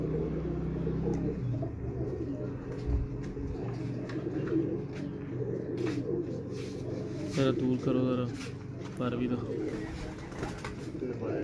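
Pigeons coo repeatedly on a rooftop loft in Sialkot, low rolling calls rising and falling under people talking nearby.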